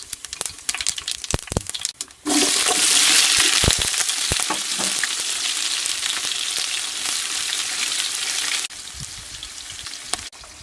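Something drops into hot oil and bursts into a loud, bright, crackling fry after a few sharp clicks. The dense sizzle holds steady for several seconds, then cuts back to quieter scattered crackles.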